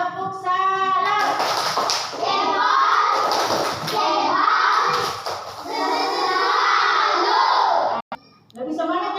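Children in a classroom chant a tepuk salut clapping rhyme, their voices loud and close with rhythmic hand claps mixed in, the chanting pausing briefly near the end before resuming.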